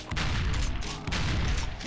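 A shotgun fires twice in a video game, each blast a loud, close boom with a rolling low-end tail, roughly a second apart, in a bathhouse area.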